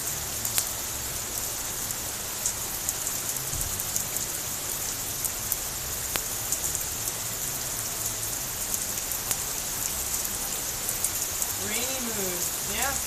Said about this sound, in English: And it's only raining twice as hard.